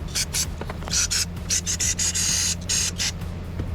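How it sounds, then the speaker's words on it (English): Short hissing bursts of cleaner spray on a very dirty carburetor from a Generac GP3300 generator, several quick pulses then longer blasts, close and loud over a low steady hum. "Let's start spraying."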